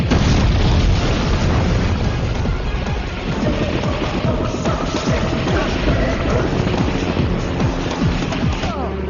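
A grenade blast from the film Main Hoon Na, a loud, continuous booming rumble that fills the whole stretch with dense crackling debris.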